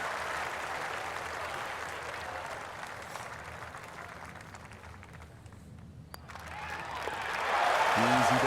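Spectators at a virtual golf tournament clap in a steady wash of applause, moderately loud, thinning out partway through before a swell of crowd noise and a voice rises near the end.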